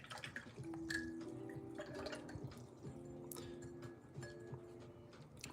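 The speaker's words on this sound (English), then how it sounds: "Rinse my brush." A watercolor paintbrush being rinsed in water, faint close sloshing and dripping taps that come in small irregular bursts, with quiet clinks of the brush against the container and no talk.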